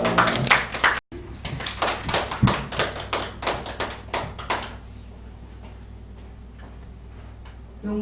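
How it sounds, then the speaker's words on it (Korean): Audience in a church gathering clapping hands, a loud rhythmic run of claps that fades out after about five seconds, leaving a quiet room. "박수 하겠습니다"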